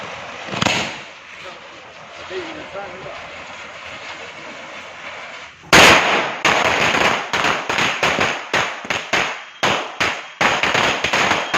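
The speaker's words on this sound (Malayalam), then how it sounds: "പടക്കവും പൂത്തിരിയും അടക്കം ന്യൂജൻ ഐറ്റങ്ങൾ വീട്ടുമുറ്റങ്ങളിൽ വർണ്ണം വിടർത്തി" Firecrackers bursting in house yards during the Vishu festival: one early bang over a murmuring background, then a long rapid string of loud, sharp cracks in irregular quick succession, close and dominant.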